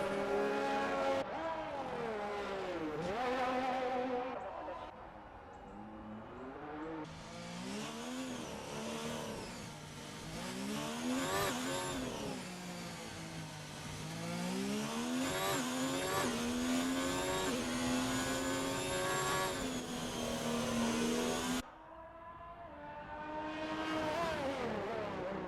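Racing cars from a Monaco race video game, a Ferrari among them, scream past with rising and falling engine pitch, loud and continuous, with repeated revving sweeps and a brief drop near the end.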